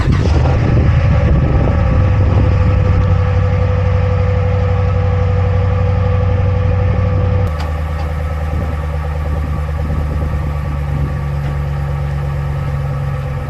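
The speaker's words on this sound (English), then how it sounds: "Gotta love a Hemi cold start" A cold-started Hemi V8 idles loud and close, a steady deep rumble that shifts to a slightly lower, smoother idle partway through.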